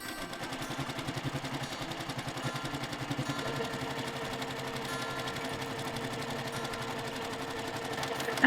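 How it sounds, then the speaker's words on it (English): A sewing machine stitches a baby quilt in one steady run, its fast, even mechanical whirr ticking along throughout at a moderate, close level with no talking. "just going to sew along that line, and just take your time"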